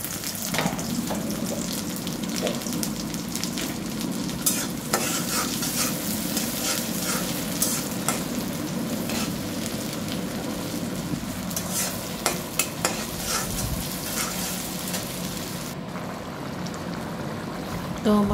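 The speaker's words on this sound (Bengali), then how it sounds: "তো পেঁয়াজটাকে ভেজে নিচ্ছি" Onions frying in a pan for a Bengali dried lotia fish curry with taro stolons, a steady close sizzle with occasional stirring scrapes running throughout, no talking.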